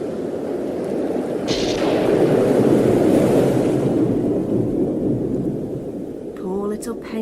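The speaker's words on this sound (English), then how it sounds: "before too long a great storm blew" Storm at sea with wind and crashing waves, a loud, broad, continuous roar that surges in the middle and stays steady, with no voice heard over it.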